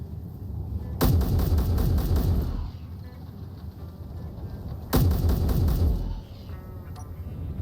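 Two loud bursts of rapid automatic gunfire from the video game Space Engineers, each lasting about one to two seconds, separated by a steady low hum of background noise.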